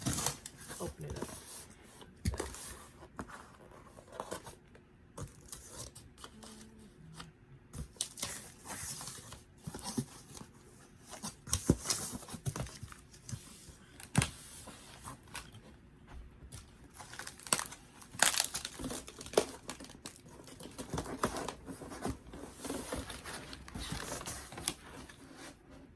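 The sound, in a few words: cutting open a custom cardboard guitar shipping box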